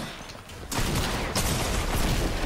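Shotgun fire in Fortnite during a creative box fight, a loud heavy blast that kicks in after a quieter start, followed by another sharp shot amid continued noisy gunfire.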